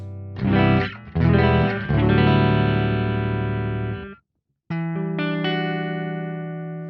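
Clean electric guitar, an Ibanez Universe through an amp profile with no effects, strums several ringing chords, stops briefly into silence, then plays sustained chords that ring out.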